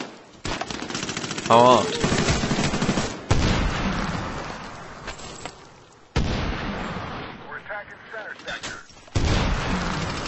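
Loud bursts of automatic gunfire crackle through a Medal of Honor Warfighter multiplayer sector control match, coming in repeated volleys with short gaps while someone talks over them.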